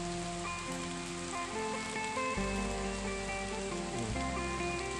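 Rain falls on a roadside chili garden in a forest, a steady broadband hiss of drops on leaves and surfaces with no talk, joined by a low-pitched hum throughout.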